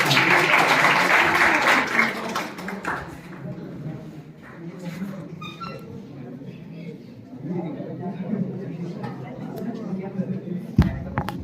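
An audience at a school farewell ceremony applauds to welcome a speaker. The loud clapping lasts about two seconds, then fades into crowd murmur and chatter.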